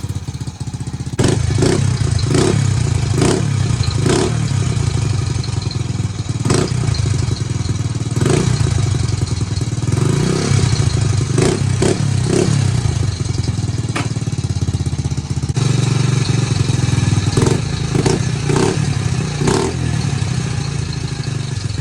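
A 1999 Honda C90 motorcycle engine runs loudly through a new race exhaust, a steady close-up drone with repeated sharp rev blips and crackles throughout.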